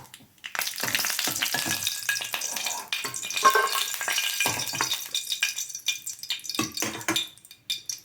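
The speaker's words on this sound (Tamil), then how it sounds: "நெய் காஞ்சோன்னா முந்திரி பருப்பு, திராட்சை போட்டு லேசாக வரத்தில் சிம்மில் வச்சு வைக்கணும்." Cashews and raisins fry in hot ghee over a low flame, giving a steady bright sizzle with intermittent stirring scrapes and clinks of a spoon against the pan, close and moderately loud, with no talking.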